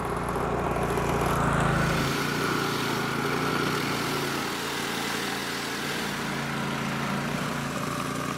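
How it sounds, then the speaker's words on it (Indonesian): A motor-driven machine grinds sago palm trunk into powder, giving a steady, loud engine drone that eases slightly after a couple of seconds and then holds continuously, with no speech. "Ini adalah proses menggiling serbuk sagu itu sendiri."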